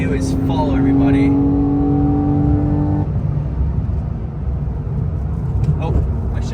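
A car engine at a rally pulls hard with a rising, revving tone, then drops pitch at a gear shift about three seconds in and settles into a steady cruising drone. The sound is close and continuous.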